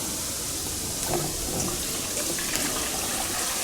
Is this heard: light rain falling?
no